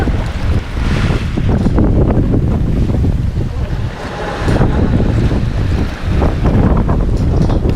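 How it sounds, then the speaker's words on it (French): Strong cold wind at sea, 21 knots, buffeting a sailboat under half genoa and double-reefed mainsail, with water rushing past; a steady loud roar and microphone wind noise fill the whole stretch with no talk. "le vent est froid, il est à 21 nœuds"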